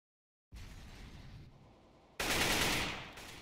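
Rapid bursts of Counter-Strike gunfire on the Cobblestone map start after a short silence, then a louder, denser volley of shots erupts and continues to the end.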